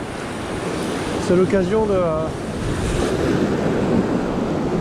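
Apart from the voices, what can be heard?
wind on the coast while lure fishing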